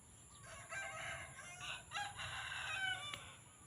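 A fighting rooster crows at a distance, one long drawn-out call over faint outdoor background noise in rice fields after rain.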